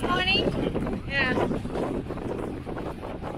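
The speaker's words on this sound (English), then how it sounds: "it's quite windy." Steady wind rumble buffeting the microphone outdoors, with a voice talking over it.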